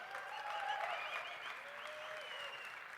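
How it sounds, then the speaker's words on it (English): Sustained applause from a conference audience, a dense even wash of many hands clapping at steady volume, somewhat distant, with faint crowd cheering tones mixed in. "All the people clapping"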